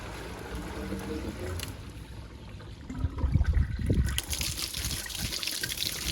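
Water trickles and splashes steadily from the waste outlet of a VEVOR 16-inch sand filter pool pump, swelling into a louder gush midway before settling back to a constant running flow.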